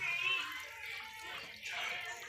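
Water pours steadily into a repaired water pump, a continuous splashing rush, close and moderately loud, with faint voices in the background.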